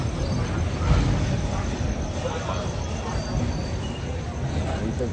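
A train standing at Bhopal station, with a low continuous rumble and faint rail noise under steady background chatter of people talking nearby.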